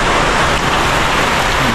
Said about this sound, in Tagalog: Naglalakas ng ulan.